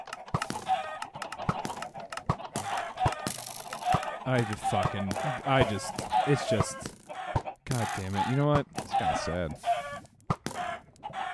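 Chickens cluck and squawk repeatedly in a Minecraft Duck Hunt game, their calls mixed in with near-constant talk from a player speaking over them.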